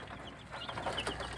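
Young chicks, some sick with bloody droppings, peeping faintly and softly in a quiet pen, with a few thin high chirps close together.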